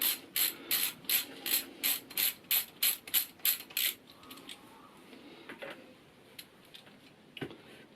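A hand ratchet removes a small 10mm bolt from the cam chain tensioner cap on a Suzuki SV650 engine, clicking in a rapid even series of about a dozen strokes, then gives way to faint tool clinks and handling noise.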